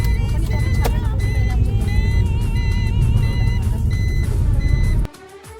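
A car travelling slowly along a road on a cold evening: a loud steady engine and road rumble, with repeating electronic beeps over it, that drops away abruptly near the end.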